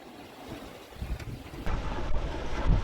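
Wind buffets a microphone on a yacht sailing the open ocean with sails out, a rough, rushing roar that grows louder partway through, with no voices.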